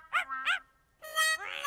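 A cartoon puppy whimpers and cries in close, high, tonal yelps: two short whines, a pause, then a longer rising-and-falling wail.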